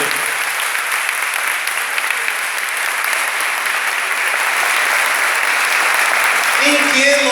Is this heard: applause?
yes